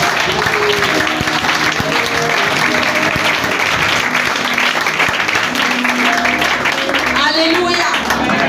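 A church congregation applauds during a service, loud sustained clapping from a crowd filling the whole stretch, with voices and a low musical tone underneath.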